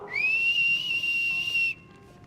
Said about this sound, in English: But here, okay, I'm practicing my whistle.